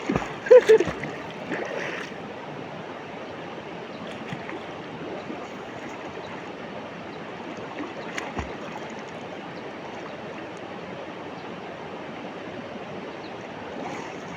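River water rushes and splashes continuously as someone swims, with a few louder splashes near the start and a steady flowing wash throughout.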